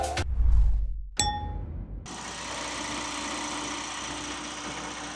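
A clunk and a short metallic ding, then the engine of a 2021–2022 Genesis G80 settles into a smooth, quiet idle that hums steadily.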